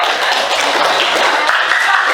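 A classroom group claps hands during a teacher's performance assessment lesson, a short dense burst of clapping, fairly loud and close, heard alone.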